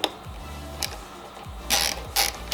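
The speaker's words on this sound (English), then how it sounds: "First thing you're going to do is take a 5mm Allen key. I'm going to use it on a socket" A ratchet socket holding a 5mm Allen key turns out the bar end mirror bolts on a Royal Enfield Continental GT 650 or Interceptor, giving close repeated ratcheting clicks in short strokes with a couple of brighter metallic snaps.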